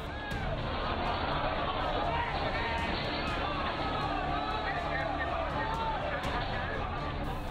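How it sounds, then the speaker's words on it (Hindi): A large crowd of BJP youth wing protesters rallying in Raipur, a steady dense babble of many voices with no pauses, loud and enveloping throughout. "इस प्रदर्शन में प्रदेश भर से आए कार्यकर्ताओं की भारी भीड़ देखने को मिली।"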